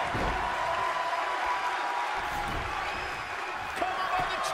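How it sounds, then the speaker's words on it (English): A wrestling arena crowd cheers in the WWE 2K20 video game, a loud sustained roar with a slight dip midway and a sharp impact near the end. "What a raucous crowd here tonight."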